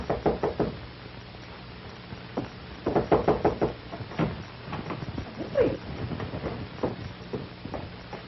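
Knocking at an apartment door, several rapid bursts of firm raps repeated across the clip, close and loud, with faint room noise between them.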